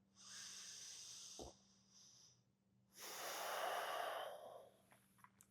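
Deep, slow breaths during a seated yoga twist: a long hissing exhale through the nose, a short pause, then a longer, louder breath, close and quiet with no talking.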